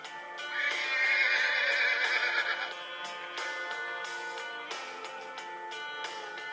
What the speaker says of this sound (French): voici Frombou, un jeune étalon